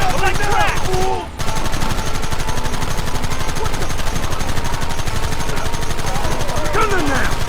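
Rapid, dense gunfire from a Red Dead Redemption shootout on PS4 rattles almost continuously, with shouted voices breaking through near the start and end.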